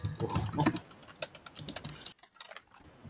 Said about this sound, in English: you're just typing